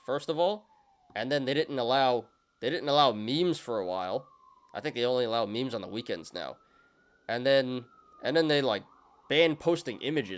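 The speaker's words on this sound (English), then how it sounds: "Sorry about the sirens, guys." Emergency vehicle sirens wail faintly outside, a slow rising and falling tone running steadily in the background beneath someone talking close to the microphone.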